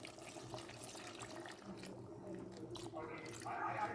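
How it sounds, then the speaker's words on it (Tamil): Water runs and splashes steadily into a pot of chicken gravy, with a brighter gushing stream near the end, kitchen clatter in the background. "இப்போ இதில் குழம்புக்கு தேவையான அளவுக்கு தண்ணி சேர்த்துக்கலாம்"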